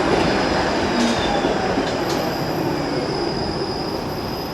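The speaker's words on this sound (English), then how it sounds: "There's a 501 Queen streetcar." A 501 Queen streetcar passes on a Toronto street, a loud, steady rumble of wheels on rails with a faint high squeal, filling the whole moment close by.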